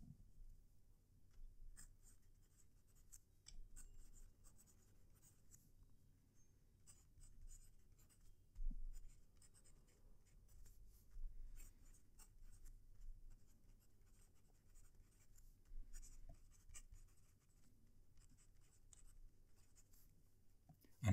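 A fountain pen scratches quietly across 60 GSM Spirax reporter-style notepad paper, with faint, intermittent strokes and soft taps spread over about twenty seconds of close, hushed writing.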